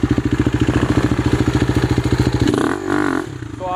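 Enduro motorcycle engine putting rapidly and evenly at low revs while the rider feathers the throttle, then a brief revving rise and fall near the end, loud and close with no talk.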